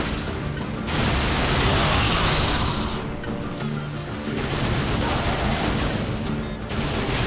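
Rapid gunfire from a weapon in Darksiders II, a dense, sustained barrage of shots that rolls on loud and continuous with brief lulls, mixed with game effects.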